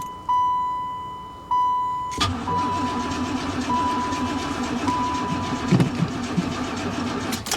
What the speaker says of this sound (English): She cranks, she doesn't run.